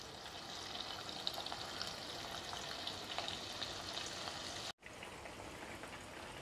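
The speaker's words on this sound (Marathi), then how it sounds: "आता आपण राहिलेले चिकनचे पीस पण तळून घेऊयात।" Chicken pieces deep frying in oil in a home kitchen over a medium gas flame, a steady crackling hiss that stays even throughout, broken by a brief silent gap near the end.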